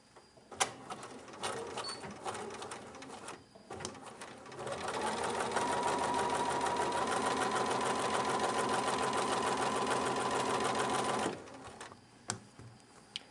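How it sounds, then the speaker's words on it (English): A Bernina 630 sewing machine stitches in one continuous, moderately quiet run through the middle of the clip, with soft clicks and handling sounds before and after. "People wonder what Bernina I sew on, and I'm currently sewing on a 630."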